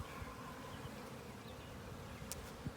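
A steady, close drone of honeybees buzzing fills the air during a hive inspection, continuous and even, with a few sharper individual bees passing nearby.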